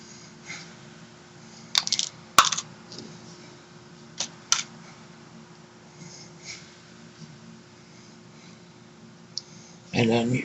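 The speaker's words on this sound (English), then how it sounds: "Snip those two." Cutters snip off the wire ends on a doodle ring, giving a few sharp, close clicks spread across a quiet background, with a louder rustle of handling at the end.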